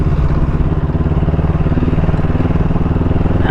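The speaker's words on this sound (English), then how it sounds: "I am riding my motorcycle on the moon next to the ocean." A motorcycle rides across hard-packed sand in the Paracas desert, its engine a loud, close, steady pulsing rumble with fast regular firing beats and no pause.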